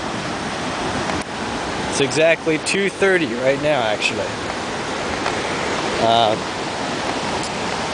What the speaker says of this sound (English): We got this beautiful river right in front of us.